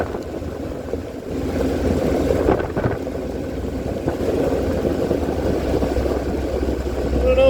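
A vehicle with a Dana 44 axle and a newly fitted Torq Locker pulls away on wet ground, giving a steady, close engine rumble with a few brief knocks and no talk.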